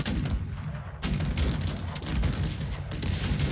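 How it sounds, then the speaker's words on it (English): Musketeer volleys in the Cossacks 3 strategy game, with dense, continuous crackling gunfire and booming shots layered together in a loud battle din that swells sharply after a brief lull. "Let's send these musketeers on the hill. As you can see, they'll start firing before the grenadiers."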